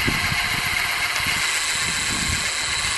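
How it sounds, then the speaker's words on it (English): A 48V hub motor on a converted A2B e-bike spins fast with no load, giving a steady, close, buzzing whine with no speech. "I will show you how fast the motor runs."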